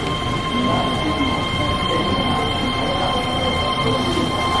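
A Keihan Line train at Fushimi Inari station in Japan gives a steady, loud, continuous rumble with a faint tonal hum, heard alone for the whole stretch.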